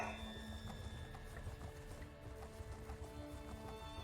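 A horse's hooves clip-clop in a steady, quick rhythm in Elder Scrolls Online, faint and even over a low background hum with tonal game sounds.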